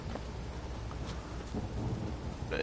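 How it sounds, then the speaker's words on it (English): Rain pours steadily in a Witcher 3 game world, with a low rolling rumble of thunder underneath, a continuous moderate wash with no voices present. "It just rains and rains."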